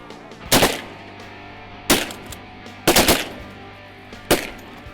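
Shotguns fire at ducks during a duck hunt in Arkansas, four sharp loud blasts spaced about a second apart, one a quick double, over a quiet outdoor background.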